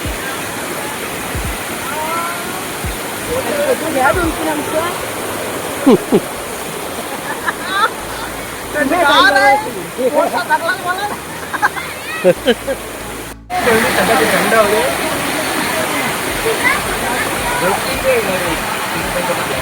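Steady rushing water of the Prabalgad waterfall fills the scene, with people talking and calling over the constant roar.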